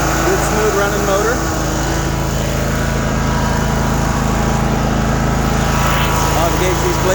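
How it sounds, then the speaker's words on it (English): A 54-inch Cub Cadet RZT zero-turn riding lawn mower engine runs steadily and loudly close by, a continuous smooth drone with someone talking over it. "No smoke or noises that shouldn't be happening. Good smooth running motor."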